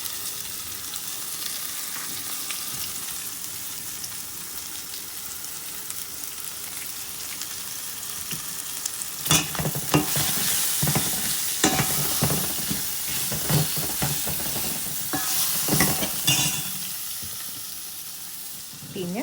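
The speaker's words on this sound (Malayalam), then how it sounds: "ഞാൻ ആ പൊടിച്ച കുരുമുളക് പൊടി, ജീരകം, പിന്നെ വെളുത്തുള്ളി, അത് മൂന്നും കൂടി ഇട്ട് കൊടുത്തു" Ground pepper, cumin and garlic frying in a pan for rasam: a steady hiss of sizzling throughout, joined midway by bursts of stirring and scraping close by.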